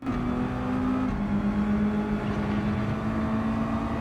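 A race car in Gran Turismo 7 runs at full throttle through a sweeping corner, a loud, sustained engine drone with a steady pitch that dips slightly partway through.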